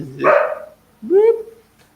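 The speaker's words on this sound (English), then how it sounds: "My dog has turned into the biggest crybaby as he gets older." An old dog gives two drawn-out, whiny barks about a second apart, each rising then falling in pitch, loud and close in a quiet room.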